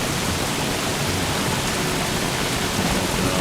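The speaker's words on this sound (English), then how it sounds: "the rain is loud" Heavy rain during hurricane season in Don't Starve Shipwrecked, a steady loud hiss of downpour with no breaks, filling the whole moment.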